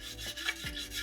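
Nylon brush scrubbing dirt from the wooden stock of a Steyr M95 carbine, a soft close continuous rubbing and scraping with faint stroke swells.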